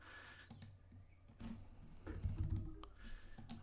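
Clicks and taps from a computer keyboard come in small uneven bursts of keystrokes, close but quiet, with short pauses between clusters and no talk.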